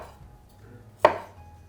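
A single sharp knife chop through broccoli on a cutting board, cutting florets into bite-size pieces, one crisp close strike standing out over a quiet kitchen.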